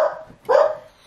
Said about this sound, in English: I have a feeling my dogs are not going to stop